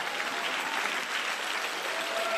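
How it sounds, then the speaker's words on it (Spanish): A church congregation applauds strongly during a sermon, producing a dense, continuous roar of clapping that holds steady throughout, with no speech over it. "Dele fuerte el aplauso al Señor."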